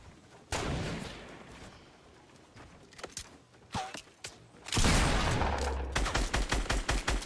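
Fortnite gunshots, with a loud sharp report and a later heavy barrage that breaks into a rapid run of distinct shots near the end, broken by quieter clicks and handling sounds.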